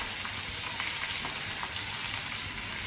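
Pomfret fish frying in a pan after being flipped, flame turned down low, giving a steady, close, even sizzle of hot oil with faint crackles throughout and no voices.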